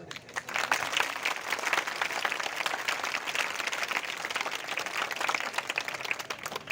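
An audience at a Rajasthan school event gives steady, moderate clapping throughout, a dense patter of many hands heard from a little distance, fairly soft and continuous without talk.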